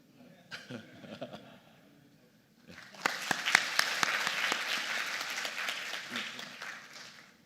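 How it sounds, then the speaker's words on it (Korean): A few seconds of quiet murmuring, then a warm burst of audience applause welcoming a keynote speaker at an academic policy conference in Busan, with some sharp nearby claps over steady clapping from the hall. "큰 박수로 맞이해 주시기 바랍니다."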